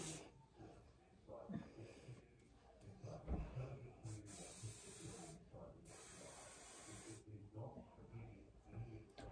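Hairspray spritzed onto hair in several short, close hissing bursts, quiet and separated by pauses, with a person talking around them.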